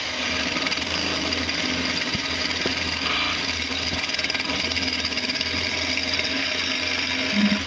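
Wood turning tool cutting a piece of wood spinning on a lathe, a steady continuous scraping hiss with a low motor hum underneath, close and fairly even in loudness throughout.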